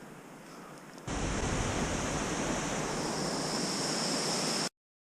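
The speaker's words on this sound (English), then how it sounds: "Long Creek Falls." Long Creek Falls, a waterfall along the Appalachian Trail in Georgia, roars as a steady broadband rush of falling water, starting after a brief quieter moment and holding loud and constant until it cuts off.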